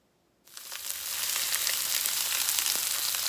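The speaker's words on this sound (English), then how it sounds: "Now I start my barbacoa by browning and charring some of the edges of a 3 to 4 pound chuck roast" A 3 to 4 pound chuck roast for barbacoa hits a hot pan and breaks into a sudden loud sizzle. It keeps hissing and crackling steadily as the meat sears and browns.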